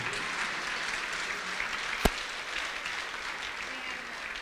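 An audience at a college employee awards dinner claps steadily in a large room, a continuous even wash of applause with one sharp bang partway through.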